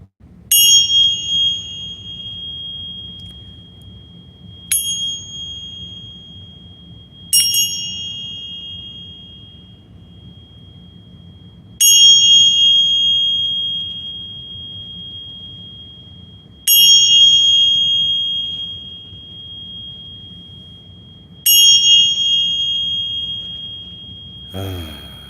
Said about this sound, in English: I'm going to take the bells here and join me